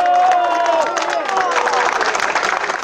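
A crowd at a Teletón telethon broadcast bursts into loud applause mixed with cheering and excited voices, a full, continuous wash of clapping throughout.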